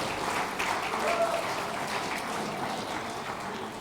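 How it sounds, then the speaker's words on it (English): Applause from the audience at a clubs and community awards night, a dense wash of clapping filling the room for a few seconds, with voices mixed in beneath it. "Give yourselves a massive round of applause"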